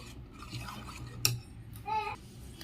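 A spoon stirs chopped pomegranate, apple, banana and green grapes into a bowl of custard, giving soft, faint scraping and squelching, with one sharp clink partway through and a brief tonal scrape near the end.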